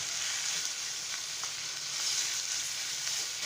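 Chicken pieces frying in ghee with ginger garlic paste for a chicken fajita pizza, a steady bright hiss and crackle with faint stirring clicks, close and alone.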